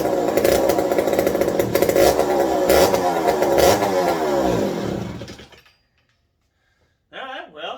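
A McCulloch 55 gear-drive chainsaw with a fixed handle and oiler runs loudly up close, revving up and down in surges before cutting out abruptly, then sputtering back briefly.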